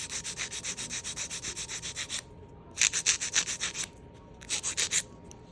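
A nail file strokes back and forth across an artificial nail tip in steady, rapid rasping passes, with two brief pauses between bursts of filing, close and clear with no talking.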